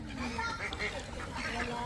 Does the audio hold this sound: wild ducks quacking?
yes